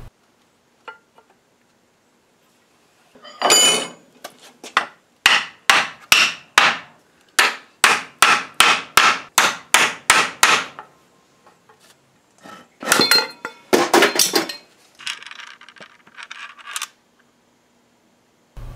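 Sharp metallic hammer blows ring out as a metal Roman gladius scabbard is closed up over an oak mandrel, a steady rapid series of about a dozen strikes followed by another short burst, loud and close with quiet gaps.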